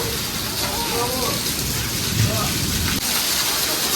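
Monsoon rain falls in a steady, even hiss that continues through the whole stretch, with a faint voice partly buried beneath it.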